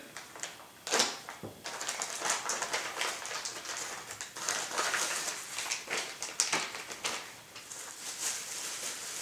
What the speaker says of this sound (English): we're pulling out our rotor head here from the bubble wrap